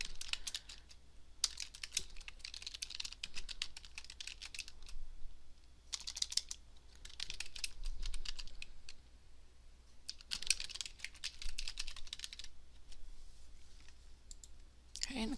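Computer keyboard typing comes in close, rapid bursts of clicky keystrokes separated by quiet pauses, with occasional mouse clicks and no speech over it.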